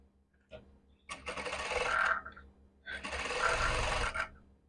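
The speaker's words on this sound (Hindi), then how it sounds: "अब इस पे हम सिर्फ लगा लेते हैं कच्ची सिलाई ताकि ये इधर उधर ना जाए" Sewing machine stitching a salwar with a loose basting stitch, running in two sustained bursts of about a second and a half each, close and loud, separated by a short pause.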